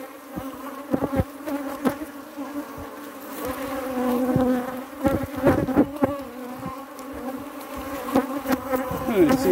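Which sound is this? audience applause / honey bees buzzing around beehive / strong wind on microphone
honey bees buzzing around beehive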